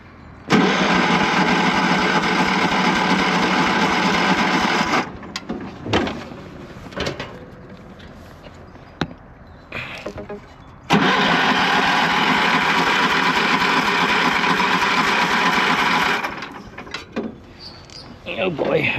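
A cranky John Deere engine runs after its carburetor bowl is tightened, a loud, steady buzzing roar that cuts out near five seconds, leaves a few clunks and short noises, then roars back for several more seconds.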